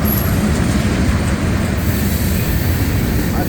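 A CSX manifest freight train with five leading locomotives and a mid-train DPU rolls past close by, a loud continuous roar of wheels on rails with a high squeal early on.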